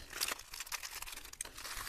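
A small plastic packet from an AliExpress parcel crinkles and rustles as it is handled and opened, a quiet, continuous crackle with a few sharper crunches.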